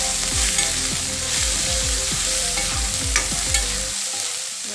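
Onions with chili powder and meat fry in a pan for an Assamese chicken dish, a loud steady sizzle broken by repeated scraping strokes of stirring, alone with no voices, then going quiet near the end.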